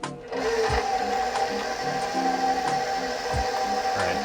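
An electric mixer runs on a low setting, blending softened butter into dough. Its motor whines steadily, with soft rhythmic clunks repeating throughout, and no one speaks.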